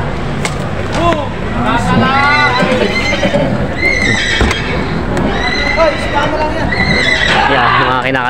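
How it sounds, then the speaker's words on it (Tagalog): Horses neigh and whinny repeatedly while being loaded at a livestock auction market, loud and close. Hoof clatter and people talking run underneath. "Yan, mga kinakargang kabayo."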